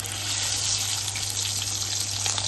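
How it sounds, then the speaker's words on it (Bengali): Hilsa fish head, rubbed with salt and turmeric, frying in mustard oil in a wok, a steady loud hissing sizzle with constant bubbling crackle, close and continuous, with no talking. "এবার ইলিশ মাছের মাথাটা ভেজে নেব।"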